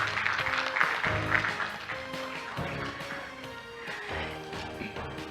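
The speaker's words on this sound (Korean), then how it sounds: "힘찬 박수 서로에게 보내드리며 사진 촬영을 마무리하겠습니다." At the opening ceremony of a 2021 Arctic cooperation week, attendees applaud after a group photo, and scattered, uneven clapping runs for several seconds over sustained background music before gradually thinning.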